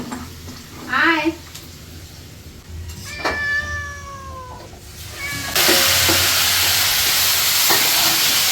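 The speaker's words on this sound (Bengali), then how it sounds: "বিড়াল এসেছে, বিড়াল" A cat meows a few times in a home kitchen while a jackfruit chicken curry cooks, with spices and water being added; loud frying sizzle takes over near the end.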